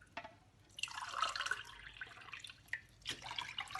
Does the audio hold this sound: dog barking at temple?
no